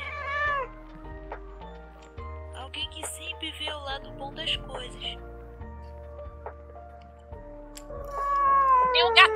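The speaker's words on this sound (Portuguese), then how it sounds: "Que tem um gato miando, hein?" A cat meows close by in a room with a pair of drawn-out, wavering cries, one at the start and a louder one at the end, over a person talking and steady background game music.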